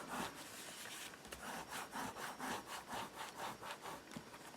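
Paper being burnished along an edge for a fabric-bound wedding mini album, a rhythmic series of soft rasping strokes back and forth, close and fairly quiet, with no voices.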